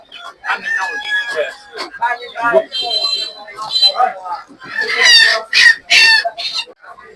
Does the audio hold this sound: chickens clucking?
yes